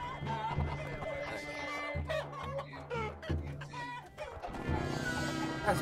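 Chickens cluck loudly in Totally Accurate Battle Simulator amid battle effects, with repeated rhythmic clucks and a crowing note as a player talks over the game sounds.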